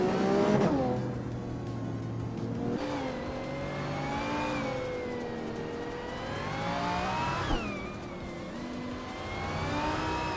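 Race car engines in a racing video game roar steadily, revving up and down with rising pitch sweeps as cars battle for position, loud and continuous with no talk.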